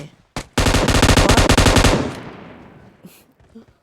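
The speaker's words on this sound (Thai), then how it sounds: "ก็ว่าอยู่เพื่อนยิงอะไรกัน ทำไมไม่เห็นวะ" Machine gun fire in the mobile game PUBG Mobile: a loud, close burst of rapid automatic shots lasting over a second, preceded by a single shot and trailing into a fading echo.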